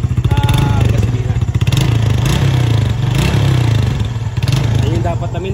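Honda XRM 110 motorcycle engine idling at a raised idle, a steady loud low putter with some rattling clatter, close by and continuous, with voices talking over it.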